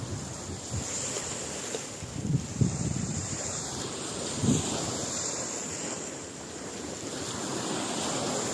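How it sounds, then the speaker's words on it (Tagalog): Surf and wind roll steadily around a boat on a choppy sea, with heavier wave surges around the middle and wind rumbling against the microphone throughout. "Taas ng alon."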